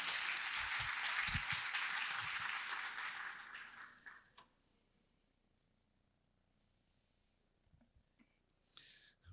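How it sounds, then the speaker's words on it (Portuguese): An audience at a conference lecture applauds as the association president is called to the stage. The dense clapping fills the first four seconds, then tapers off into near silence with a few faint stray sounds. "Uma salva de palmas."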